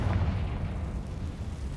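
A Confringo explosion spell from the video game Hogwarts Legacy lands as a muffled, low booming rumble that rolls on steadily and fairly faintly for under two seconds, with no voices.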